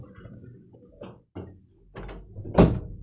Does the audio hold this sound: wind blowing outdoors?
no